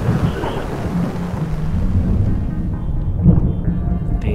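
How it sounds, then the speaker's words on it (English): Low rolling thunder rumbles continuously with a wash of rain and wind noise, steady and fairly distant, with no voices. "The massive storm system moved in from the west."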